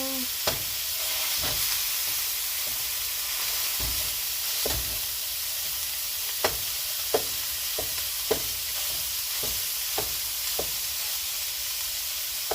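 Ground hamburger meat sizzles loudly in a hot pan while a utensil chops and breaks it up, giving a constant frying hiss punctuated by sharp, evenly spaced taps against the pan.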